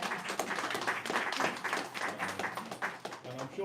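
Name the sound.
audience applause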